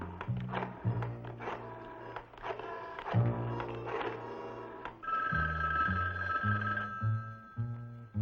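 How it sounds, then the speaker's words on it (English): An old telephone bell rings in an apartment in a vintage crime drama, sounding as repeated jangling rings over a low rhythmic musical score, with no speech. "I have to answer the phone."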